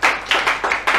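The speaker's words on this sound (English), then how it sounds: "Let's give the Lord a round of applause." Church congregation clapping during a sermon, several loud, close bursts of hands in an uneven rhythm, about four strong claps within a second.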